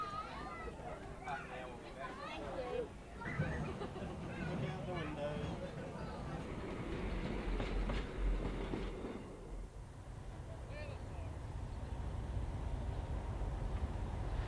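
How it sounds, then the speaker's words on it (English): Vintage locomotive 847 pulling carriages away from Pukeowari station on the Glenbrook Vintage Railway during a busy event, with rhythmic chugging and rail noise under crowd chatter and talk. "847 departs Pukeowari during a busy Friends of Thomas weekend"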